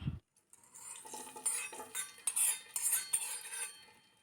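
Cashew nuts stirred into pineapple payasam, a spoon scraping and clinking against the pot in irregular strokes after a short pause, close with no talk.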